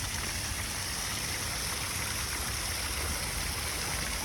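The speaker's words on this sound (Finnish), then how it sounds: "pieni vesiputous" A small waterfall on the grounds of a hotel in Maspalomas gives off a steady, even rush of falling water that fills the whole stretch without a break.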